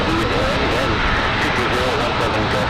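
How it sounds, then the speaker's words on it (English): A Boeing 787 Dreamliner's auxiliary power unit runs at Raleigh-Durham International Airport on a windy day, giving a steady, loud broadband roar that holds constant throughout with no breaks. "Why does it seem like the Dreamliner APU is getting louder and louder?"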